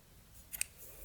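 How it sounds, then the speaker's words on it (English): Scissors snip through crochet yarn twice in quick succession, short crisp cuts heard up close in a quiet room with no talk. "then you can cut your yarn and fasten off"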